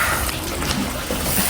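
Water splashes and gurgles steadily as it is poured into a pot of potato dal cooked with tomato to thin it, a close, continuous pouring sound with no talk.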